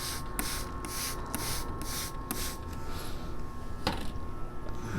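Several short hissing sprays of water from a bottle onto geraniums and a succulent come in quick bursts early on, then a couple more after a pause, against a quiet room hum.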